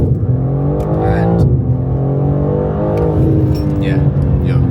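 A BMW G80 M3 Competition engine in sport mode idles and revs with a deep, loud rumble and harmonic drone, holding steady before climbing briefly, while someone speaks over it.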